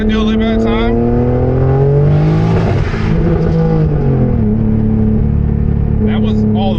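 A turbocharged BMW E36 on E85 fuel accelerates hard under boost, its engine note rising steadily and loudly with a strained, climbing pitch before settling, heard up close from inside or near the car.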